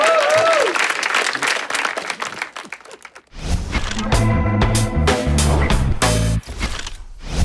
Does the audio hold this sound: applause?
yes